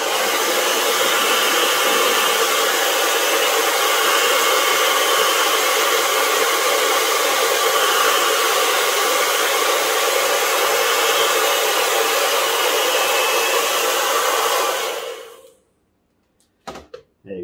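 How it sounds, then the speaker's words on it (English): A hairdryer blows hot air onto a vinyl e-scooter sticker wrap, a loud steady whooshing whir held close and continuous for about fifteen seconds, then switched off, followed by a couple of faint handling knocks. "Now we get our hairdryer."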